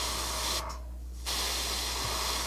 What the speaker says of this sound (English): We'll spray some onto the upper side.